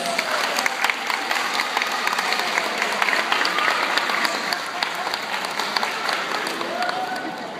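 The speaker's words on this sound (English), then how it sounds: "I think we need to give him a big round of applause." A crowd applauds steadily, with many hands clapping at an even, lively pace and some scattered voices and cheers mixed into the clapping.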